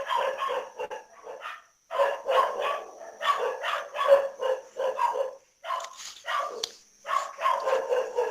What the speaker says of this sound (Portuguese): Os cachorros estão atrapalhando